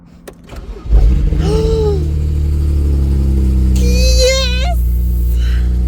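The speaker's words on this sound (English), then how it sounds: "if all goes well, it should crank right up." A BMW 135i engine cranks briefly and fires up close, settling into a loud, steady idle, while a voice exclaims over it partway through.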